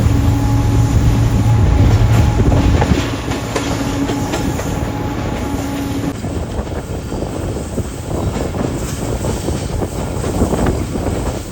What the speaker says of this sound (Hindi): ट्रेन हमारी फाइनली हैदराबाद शहर में एंटर हो चुकी है